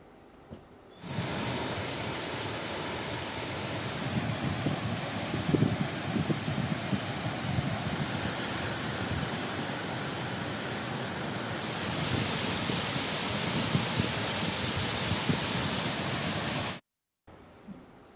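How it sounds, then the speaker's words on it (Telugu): Floodwater rushes through a swollen stream after heavy rain, a dense continuous roar with no let-up that stops abruptly near the end. "వాగులు ఉప్పొంగి ప్రవహిస్తుండటంతో రాకపోకలు పూర్తిగా నిలిచిపోయాయి."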